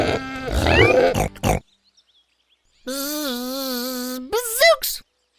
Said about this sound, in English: a short grunt, a longer growl, and a loud roar will warn my pig friends of approaching danger